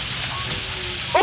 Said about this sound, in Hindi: बारिश में रुकने का नाम ही नहीं ले रही।